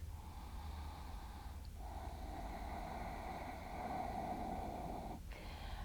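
Slow, deep breaths during a yoga stretch: a long airy exhale, a short sharp intake, then another sustained breath, close and quiet.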